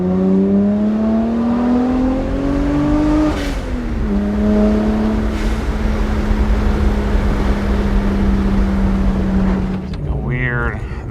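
Modified BMW 1M exhaust drones steadily while driving, a strong low engine note that climbs under acceleration, eases briefly around a gear change, then holds cruising pitch before dropping off near the end.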